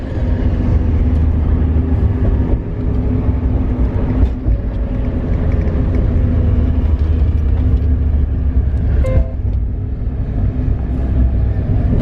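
A Mazda Miata running a MegaSquirt engine management system cruises at low speed, its engine a steady low drone with road and mechanical rumble, continuous and close, with no talking.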